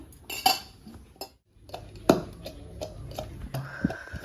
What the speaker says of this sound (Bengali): আদাগুলো কেটে কুটে করা আছে বন্ধুরা দিয়ে দেবো সরষের তেল এবার থেতো করে নেবো